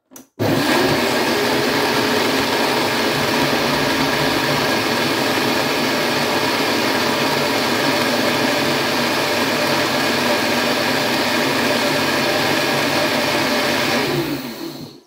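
A blender at turbo speed whips fruit into a smoothie, a loud, steady high-pitched whirring roar that holds constant for about fourteen seconds before cutting off.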